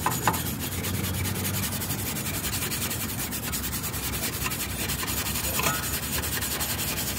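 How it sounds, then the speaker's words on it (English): A wire brush scrubs the rear brake hub surfaces of a Volvo V70 by hand in continuous rough back-and-forth strokes, close and fairly loud, with no talking. "just a good old fashioned elbow grease and a wire brush"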